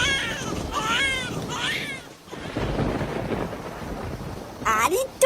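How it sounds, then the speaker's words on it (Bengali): A thunderstorm with heavy rain in an animated Bengali comedy: a broad rushing roar swells through the middle, framed by high, wavering voiced cries that sound like meowing before and after it. "এত ঝড় বৃষ্টির মধ্যে হয়েছিল"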